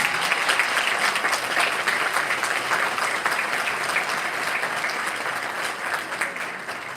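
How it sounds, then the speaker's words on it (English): An audience at a senior awards ceremony applauds the honorees, steady, even clapping from a large crowd that holds throughout and tapers slightly toward the end. "Let's give the first half of the group a round of applause."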